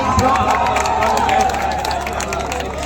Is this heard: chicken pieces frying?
no